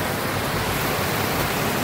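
Floodwater rushing past parked vehicles, a steady, loud broadband roar of flowing water that holds constant throughout with no break.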